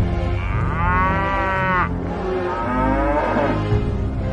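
Oxen hitched to a new ox cart let out two long, loud, close moos, each drawn out and falling in pitch, with no talk.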